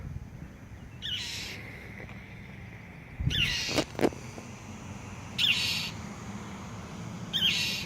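A bird attacking close by gives short bursts of high, shrill calls roughly every two seconds, with a couple of dull knocks between them and no talking.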